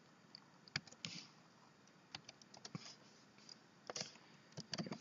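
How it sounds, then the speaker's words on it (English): Someone types on a computer keyboard while writing C# code, an uneven run of close, crisp key clicks and taps, sparse at first and then denser in quick bursts, with no talking. "Follow what I'm typing in"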